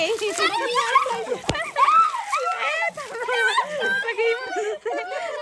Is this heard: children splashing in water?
yes